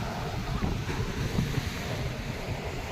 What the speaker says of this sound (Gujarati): મિત્રો અત્યારે જોરદાર કરંટ છે દરિયાનો